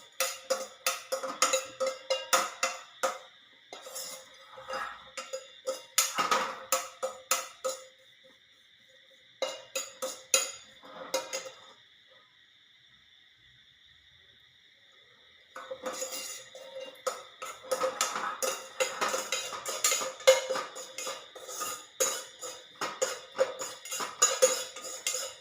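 A pan roasting food until it turns brownish, with a spoon stirring and scraping against the metal in repeated clinking bursts, a quiet pause midway, then steady scraping again, close and fairly soft with no voice.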